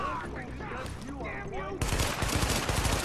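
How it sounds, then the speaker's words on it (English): Gunfire in The Division video game, a dense burst of rapid shots erupting loudly in the last second after a stretch of layered game effects and a voice under the action. "Poke your head out so I can shoot you."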